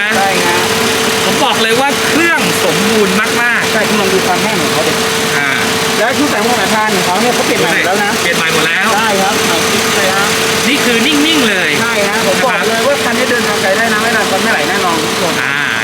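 A 2001 Mercedes-Benz W210 E240 with a V6 engine idling steadily, a continuous engine drone heard close by beneath someone talking throughout.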